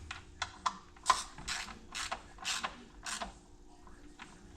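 Bolts being tightened down by hand with a ratchet on a Ford Escape 3.0 V6 engine during head gasket and timing cover work, several short bursts of clicking, close and fairly quiet.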